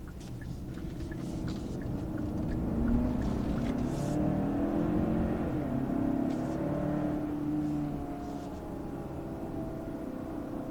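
A Hyundai Santa Cruz Preferred pickup truck accelerates up a short hill climb, its engine note rising and holding steady as a smooth, continuous drone with road and wind noise, fairly close and alone without talk.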